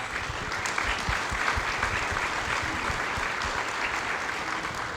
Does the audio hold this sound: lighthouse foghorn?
no